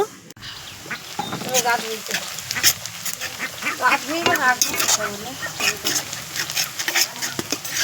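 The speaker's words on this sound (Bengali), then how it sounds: "পেঁয়াজটা আমি লাল লাল করে ভেজে নিচ্ছি, এর বেরেস্তা হবে" Sliced onions frying in hot oil toward a browned birista for village-style chicken biryani, with a steady loud sizzle and busy stirring scrapes throughout, and animal sounds calling in the background.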